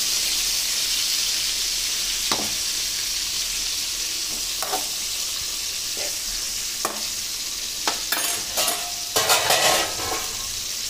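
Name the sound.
tomatoes frying in a pan for chutney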